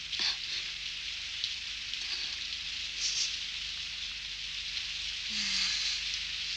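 Rain falls steadily outside a doorway, a constant hiss of drops on the surfaces around it, even and moderately loud across the whole stretch, with a faint low hum beneath.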